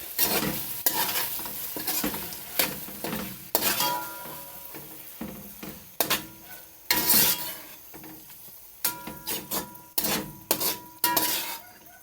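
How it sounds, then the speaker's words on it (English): Macaroni and frankfurters with jerk seasoning being stirred in a pot, repeated scraping and clinking strokes of a spoon against metal over a low sizzle, close and irregular, with no speech. "Now I'm going to add some jerk season hot and spicy. And stir it up."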